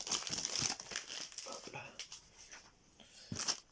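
A random booster pack wrapper is torn open, giving close, intermittent crinkling and crackling bursts of plastic with short quiet gaps between them.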